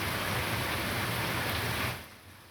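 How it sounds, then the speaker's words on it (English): Heavy rain pouring outside, a loud, steady broadband hiss that fills the clip and then drops away sharply near the end, with no talk. "is raining really loud outside"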